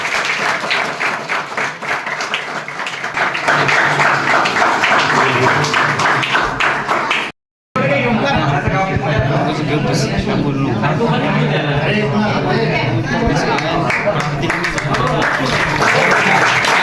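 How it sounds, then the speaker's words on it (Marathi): An audience at a village Ambedkar Jayanti celebration breaks into loud, sustained applause, a dense wash of clapping that continues through a brief cut, with crowd chatter and a voice speaking over it. "टाळ्या वाजवूया आपण।"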